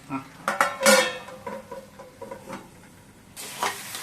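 A metal lid clatters onto a pan of eggplant frying in oil, with a few sharp clanks and knocks followed by a soft sizzle, close and fairly quiet.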